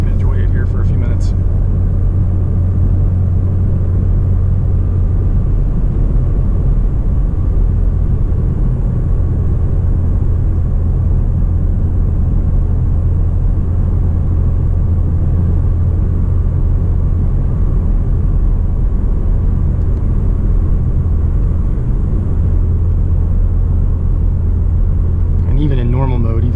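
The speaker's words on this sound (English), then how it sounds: "I do have the sports exhaust enabled, but other than that, just driving in normal." Steady low exhaust drone and road rumble from a 2018 Porsche Macan GTS cruising in normal mode with the sports exhaust enabled, a constant cabin hum throughout with a brief blip at the start.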